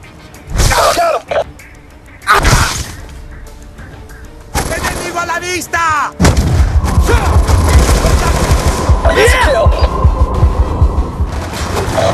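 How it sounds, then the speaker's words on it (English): Black Ops 2 mission action: bursts of gunfire and heavy booming artillery, first in separate loud blasts and then in a dense continuous barrage, with radio-style voices in the game talking over it. "Sat antenna's under fire!"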